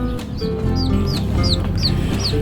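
Young chickens about two months old clucking and peeping in an outdoor pen with a dirt floor, a close, steady chorus of repeated rising chirps over a busy flock murmur.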